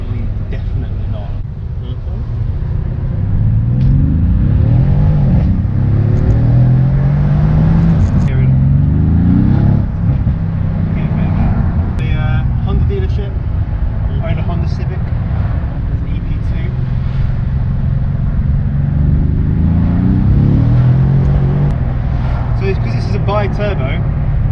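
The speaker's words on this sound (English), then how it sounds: "you can hear the turbo spooling up as well, and it's just kind of releasing such a pleasant sound" Mercedes-AMG C63 engine heard from inside while driving: a steady loud drone that rises through several revving pulls as the turbo spools, under near-continuous talk from the driver.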